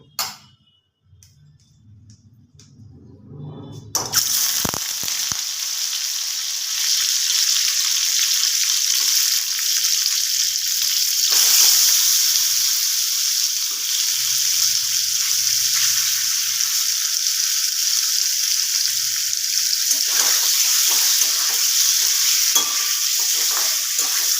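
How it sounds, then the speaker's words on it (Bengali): Paneer pieces fry in a pan. After a few quiet seconds of handling, a loud, close sizzle starts and holds steady for about twenty seconds, with occasional stirring scrapes beneath it and no talk. "আস্তে আস্তে পনিরগুলোকে ভেজে নেব"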